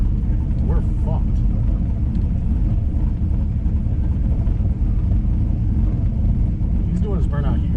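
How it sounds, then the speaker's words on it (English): A car with an LS7 engine does a burnout, its heavy low engine rumble and roar droning steadily throughout, with people talking over it now and then. "Doing his burnout here."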